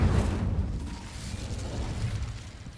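An Incendio fire spell cast in a video game bursts out loud and sudden at the start, then settles into a sustained roaring, crackling rush that fades slightly over about three seconds.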